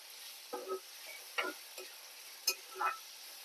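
Dried prawns frying in a pan with onions, a low steady sizzle broken by several sharp pops and crackles spaced irregularly, close and fairly quiet with no talking.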